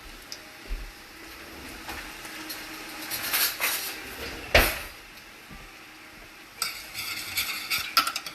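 A spoon stirs hot ginger relish in a pan: soft, scraping swirls with a few louder clinks against the metal, one sharp knock midway, fairly quiet throughout.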